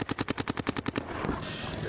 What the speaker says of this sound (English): You can hear the gun going down from the player next to me.